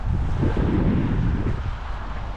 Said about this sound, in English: It's very kind of windy season.